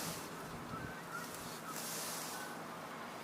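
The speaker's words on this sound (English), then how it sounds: "I believe I hear Canada geese in the air." Canada geese honk in the air over the Beebe Lake area, a few faint, distant calls scattered above a constant outdoor wind and background hiss.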